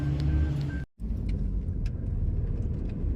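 A car rumbles steadily with engine and road noise, then there is a sudden brief dropout before the low driving rumble resumes at a similar level, with no speech.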